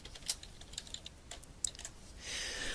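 Rapid, light clicks of typing on a computer keyboard, irregular bursts of keystrokes close and faint, with no voices.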